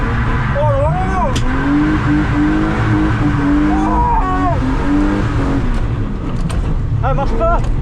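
A BMW E36 squeals its tires in long wavering howls while drifting, the engine loud and close throughout the run, with people talking over it.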